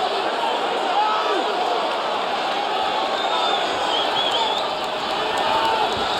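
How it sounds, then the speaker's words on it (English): Boxing arena crowd at Barclays Center during the final seconds of a Garcia vs Peterson fight, a dense, steady roar of applause and cheering that holds loud and unbroken throughout, with an announcer's voice faintly under it. "And an ovation from this Barclays Center crowd."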